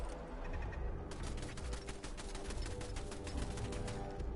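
A heavy turret in Fallout 4 hammers out continuous automatic fire, a dense rattling stream of rapid shots that carries on for several seconds, steady and fairly close, with no voice over it.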